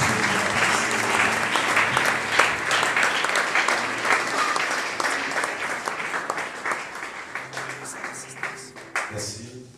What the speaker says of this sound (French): Alors, sous vos applaudissements, j'invite le pasteur Gilles pour parler